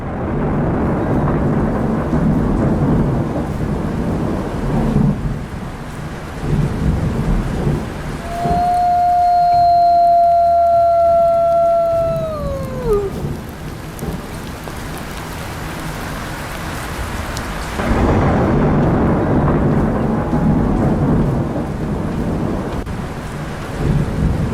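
Thunder rumbles through a heavy storm over a valley forest, with steady rain pouring on surfaces throughout; a long eerie whistling tone rises and then slides down in the middle before the downpour swells again.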